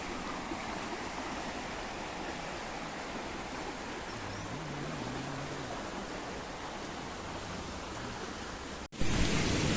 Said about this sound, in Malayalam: മുകളിൽ നിന്നും ഒരു വെള്ളച്ചാട്ടം വരുന്നു, അത് താഴത്തേക്കെത്തി